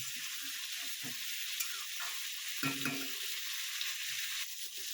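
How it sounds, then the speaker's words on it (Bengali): Mixed vegetables for a Bengali panchmishali sabji fry in oil with salt and no spices yet, giving a steady, close sizzle with occasional scrapes and clatter of stirring. "এটা একটু ভাজা ভাজা করে নেব।"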